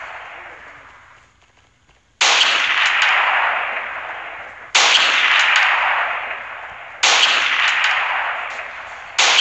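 Gunfire in the mobile shooter Standoff, three loud, sharp shots spaced a couple of seconds apart, each followed by a long fading echo.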